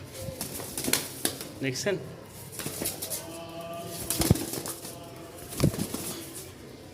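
Pigeons in a loft coo and flap their wings in short bursts, with a bird call and scattered rustling, while someone talks over them close by.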